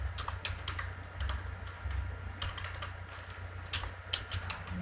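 Fingers tap out C code on a computer keyboard, close and fairly quiet, a quick, uneven clatter of keystrokes in short bursts over a low steady hum, with no talking.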